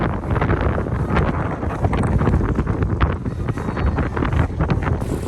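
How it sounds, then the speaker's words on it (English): Strong wind buffets the microphone aboard a sailboat drifting down a river in New Zealand: a constant, loud, gusting rush with no voices. "It's so windy, we can just float down the river."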